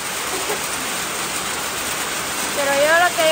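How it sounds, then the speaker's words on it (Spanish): Steady rain pours down in a broadband hiss while laundry is being washed outdoors by hand; a voice speaks briefly near the end over the rain. "ya se nos vino la lluvia."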